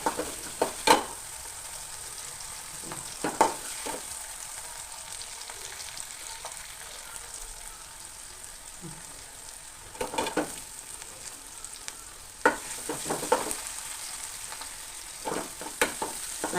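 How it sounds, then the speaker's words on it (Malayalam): Onions fry steadily in a pan for a jackfruit curry, giving a continuous soft sizzle broken by occasional sharp crackles and stirring clicks, close and moderately quiet with no voices. "ഉള്ളിയൊക്കെ നല്ലോണം ഒന്ന് മൂത്ത് വന്ന് നല്ലോണം മൂത്ത് വരട്ടെ"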